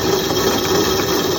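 Razor electric dune buggy motor running under throttle, a steady, loud whine with a constant pitch that holds through the brief moment, close by with no speech.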